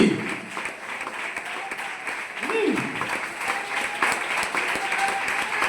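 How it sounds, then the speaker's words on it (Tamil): A church congregation claps hands steadily together during a lively Tamil Pentecostal prayer service, a continuous wash of applause with voices rising over it. "கண்ண மூடி கையை தட்டி"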